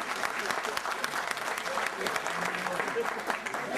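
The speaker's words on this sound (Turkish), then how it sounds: "bir alkış alalım bu anda" Dense audience applause rolls steadily for a few seconds at a lively village gathering, with voices mixed faintly into the clapping.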